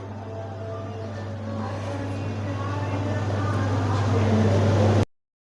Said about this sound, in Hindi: उसके बाद इसी चॉपर में मैं प्याज को भी चॉप कर लूँगी।